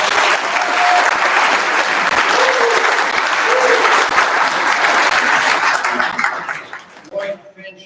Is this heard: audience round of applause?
yes